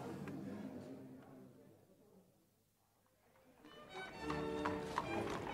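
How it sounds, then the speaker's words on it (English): Horses' hooves clip-clop as post horses pull a carriage toward Woolwich in a radio drama of Wilkie Collins, the steady rhythm fading and returning louder, with a few spoken voices mixed in. "I'll find the carriage. You pay for the post horses."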